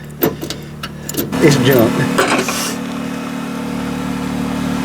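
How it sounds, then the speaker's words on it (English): A car's clutch clunks and grinds while the engine runs, with a few knocks and a rough mechanical rattle before settling into a steady idle; someone speaks briefly over it. "You hear that? That's that clutch."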